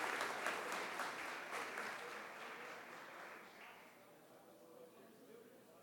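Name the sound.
applause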